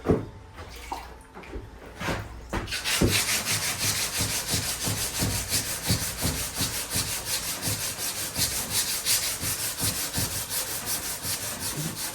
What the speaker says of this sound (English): So I suggest just wet sanding it with 180 wet sand.